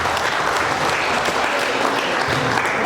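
Sustained, dense applause from a crowd at an 80th birthday celebration, steady and loud throughout with no pauses.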